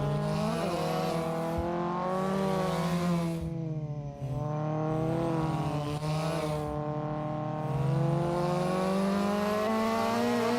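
Race cars in the Assetto Corsa sim racing game during a touge tournament, engines revving through gear shifts with tires squealing as the cars slide through corners, loud and continuous without talk.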